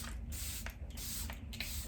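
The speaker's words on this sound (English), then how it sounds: "Setting spray, this is the Charlotte Tilbury Airbrush Flawless Setting Spray." A Charlotte Tilbury Airbrush Flawless Setting Spray mist is pumped in several short, close bursts, each a sharp airy hiss separated by brief pauses.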